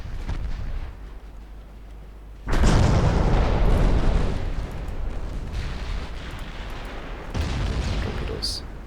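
Heavy booming blasts from torpedo strikes in the naval warship game Ultimate Admiral Dreadnoughts, a sudden loud eruption near 2.5 seconds sustaining a rumbling roar, with another surge late on over a low background rumble.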